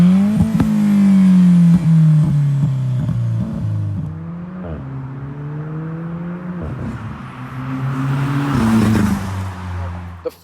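Turbocharged 4-cylinder engine of an Alfa Romeo 4C coupe, 237 horsepower, heard from inside while driving: steady droning engine note rising and dipping through several gear changes, loud and continuous with no talk.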